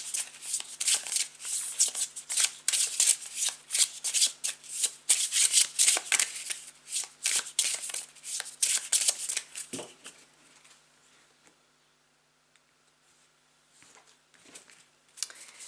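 A tarot card deck is shuffled by hand in quick, crisp riffling bursts for about ten seconds, close and clear, then the sound drops to near silence with a few faint card touches.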